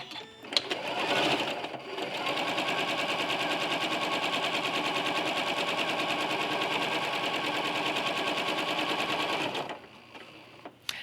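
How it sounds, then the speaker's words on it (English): A home sewing machine runs steadily at a normal 2.4 stitch length, sewing an eighth of an inch in around the edge of a quilt: one continuous close, loud mechanical whir for about eight seconds, starting and stopping cleanly. "I'm going to stitch about 1/8 of an inch all the way around my quilt"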